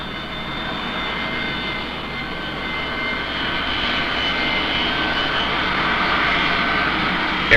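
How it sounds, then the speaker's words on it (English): An Air California airliner's engines run steadily at an airport in 1970, a loud continuous whine and roar with tonal hum that swells slightly over several seconds, with no voices. "Air California Flight 37 is ready for takeoff and requests clearance to taxi to runway 19 right."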